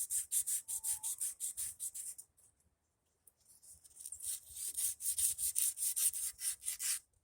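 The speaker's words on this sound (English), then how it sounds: "So I'm just going to clean some of the rust off of here." Crocus cloth rubbed over rusty metal on a wood chipper shredder, a fast run of rhythmic back-and-forth scrubbing strokes that stops briefly, then picks up again, close and fairly quiet with no talk.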